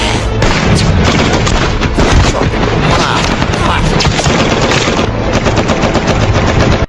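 A loud, relentless barrage of battlefield gunfire and explosions from the war film Hacksaw Ridge, with rapid machine-gun bursts and heavy booms layered continuously before cutting off abruptly at the end.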